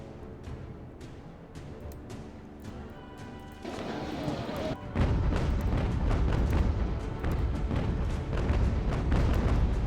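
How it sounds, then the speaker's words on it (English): Ship cannons firing canister shot during a sea battle in UGAR, a series of booming discharges that thicken into a loud, sustained barrage in the second half, with a voice talking over the early part. "we're just shooting canisters, so it's not going to hurt the ship"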